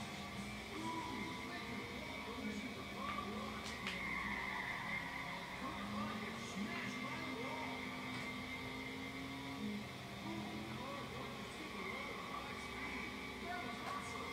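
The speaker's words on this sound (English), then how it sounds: "awesome indeed when hitting wall in a high speed" A car slams into a wall at high speed in the racing game Juiced 2, with steady engine drone, tyre skidding and scraping running throughout at moderate loudness and no talking.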